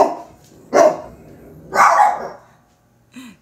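A dog barks in three loud, separate bursts nearby, with a faint short yip at the end and no talking.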